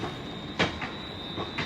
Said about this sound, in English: There's a train pulling right in.